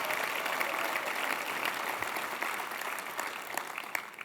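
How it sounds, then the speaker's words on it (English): Audience members at a tech conference opening keynote applaud, a broad continuous patter of clapping from a large room, fairly distant and even throughout. "How about a round of applause for the golden hoodies?"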